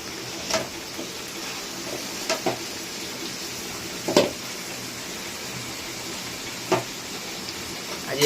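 Meat frying in a pot on a gas stove, a soft steady sizzle with a few sharp stirring clinks and scrapes scattered across the moment.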